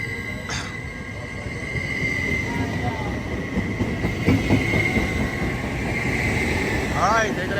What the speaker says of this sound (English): Alright, there go that train.